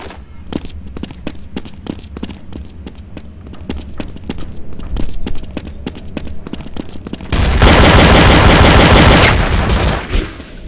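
Rapid rhythmic pistol fire in Counter-Strike: Source during pistol practice on the Italy map, a long string of sharp close shots followed by a louder, denser burst of gunfire that cuts off near the end.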